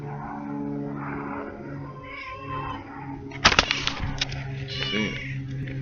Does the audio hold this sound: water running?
no